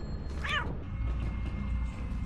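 A cat meows once in the video game Lethal Company, a short rising-and-falling call heard clearly over a steady low in-game background hum.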